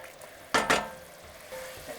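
Capers frying in a pan: two sharp sizzling bursts as they hit the hot oil, then a softer, steady crackle, close and without talk.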